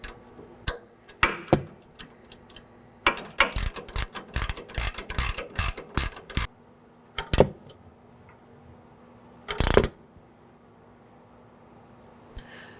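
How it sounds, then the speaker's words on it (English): A 19mm wrench works a sway bar link nut on a Nissan Sentra, giving a rapid series of sharp metallic ratcheting clicks in bursts, then a pause, a few isolated clacks and one longer grinding rasp, all close by. "I'm going to hold the stud while I'm turning the wrench"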